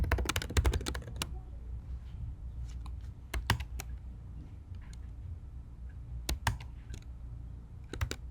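Keys clatter on a computer keyboard in bursts of quick, close taps with pauses between them, set against a steady low room hum, and no one speaks.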